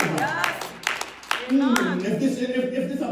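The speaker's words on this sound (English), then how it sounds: "Clap your hands if you know what I'm talking about." A church congregation claps its hands in short scattered bursts during a sermon, brief and fairly close, while a preacher's voice carries over and between the claps.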